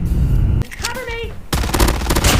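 A fully kitted Fennec submachine gun in Call of Duty Mobile fires two loud, rapid bursts. A brief pause with a spoken voice separates the two volleys.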